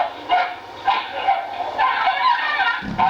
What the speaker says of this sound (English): There they are, going after my dogs.